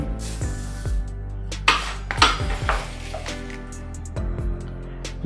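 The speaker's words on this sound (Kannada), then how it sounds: "ಇದರಲ್ಲಿ ಮೆಜರಿಂಗ್ ಕಪ್ಪಲ್ಲಿ ನಾನು 2 ಕಪ್ನಷ್ಟು ಅವಲಕ್ಕಿಯನ್ನು ಹಾಕ್ಕೊಳ್ತೇನೆ." Thick poha is measured out, two cups, into a metal strainer, producing close, bright clinks and scraping metallic rattles of cup against strainer in a few short bursts, with no speech.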